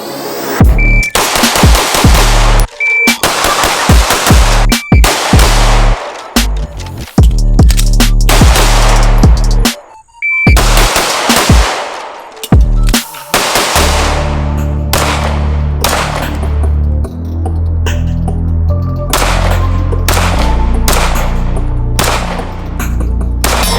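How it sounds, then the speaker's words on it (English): A Walther PPQ Q4 pistol fires at a shooting range, loud sharp cracks in quick strings separated by short pauses, with music-like sound underneath in the later part. "After shooting through the first mag of the PPQ"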